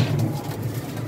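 Teddy pigeons at a pigeon club coo in low, throaty, repeated pulses close by, with a faint engine-like hum running steadily underneath.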